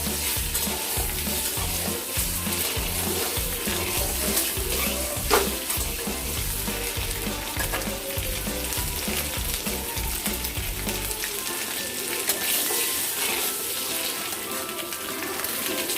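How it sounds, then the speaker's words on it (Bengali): Duck eggs frying in hot oil with turmeric and salt, a steady sizzle with rhythmic stirring scrapes through most of the stretch, then the stirring stops and the sizzle continues alone, close and fairly loud. "দিয়ে ডিমগুলোকে আমরা ভালো মতো করে লাল লাল করে ভেজে নিব।"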